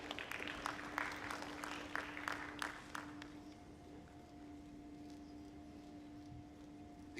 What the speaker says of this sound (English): A big round of applause for Ajiamondo